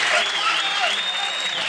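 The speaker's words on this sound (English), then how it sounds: "Listen to that standing ovation crowd" A standing ovation for pool player Tommy Kennedy at the 1992 U.S. Open 9-Ball Championship finals: dense, sustained crowd applause fills the space while a voice talks over it.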